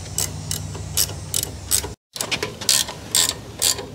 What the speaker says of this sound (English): put the bolts on and lock washers. Want to tighten these in a cross pattern.